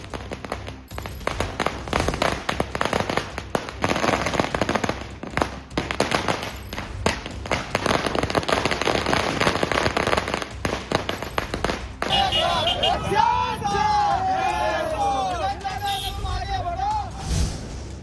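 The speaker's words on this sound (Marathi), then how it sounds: "फटाक्यांची आतषबाजी आणि घोषणाबाजी अक्कलकोटमध्ये सुरू" Firecrackers and fireworks burst outside a vote counting centre in Akkalkot during local body election results, a dense run of sharp cracks for most of the stretch, then a loud crowd chanting slogans takes over near the end.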